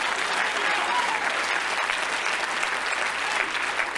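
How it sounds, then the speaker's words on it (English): A church congregation claps hands during a Sunday morning service, steady dense applause from a large crowd in a sanctuary, filling the whole stretch without a break. "Somebody clap your hands unto God this morning."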